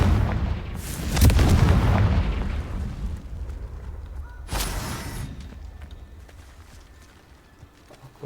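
Confringo fire spell blasts in Hogwarts Legacy: two loud, booming explosions about three seconds apart, each trailing off in a long rumbling decay, with no talk.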